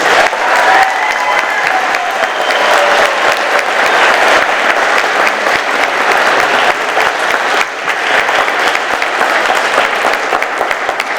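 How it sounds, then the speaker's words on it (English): A room full of attendees at a police department annual service awards ceremony applauds the honorees, thick continuous clapping that stays loud and steady throughout, with a few faint voices mixed in. "Please, round of applause for our honorees."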